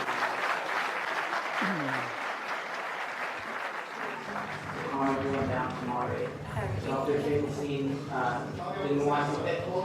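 Loud applause and cheering from a large audience at a talk, dense and sustained, with people speaking and shouting over the crowd noise.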